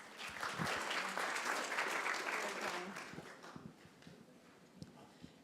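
Audience at a community meeting breaks into applause, a full burst of clapping that swells early and then thins to scattered claps.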